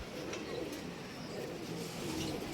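Soft, low pigeon cooing repeats steadily through the clip over a constant outdoor hum, with no clear talking.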